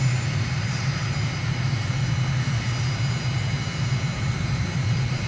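A MiG jet roars steadily in a flight simulator during a low turn near the runway, a constant loud engine rumble with a thin high whine above it, no pauses throughout.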